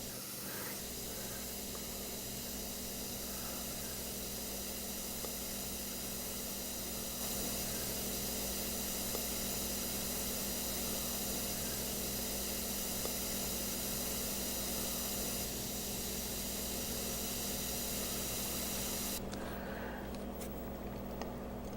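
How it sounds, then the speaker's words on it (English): A gravity-feed airbrush sprays paint with a steady, even hiss that runs on for the whole stretch, with small shifts in level, close and continuous and without talking. "I am using the same airbrush. It's a gravity feed."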